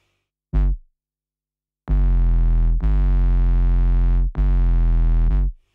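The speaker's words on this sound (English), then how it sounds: "because the main 808 sounds like this." Thick, distorted 808 bass from the Seven Skies 808 pack: one short hit, then three long sustained, buzzy low notes back to back, loud and upfront.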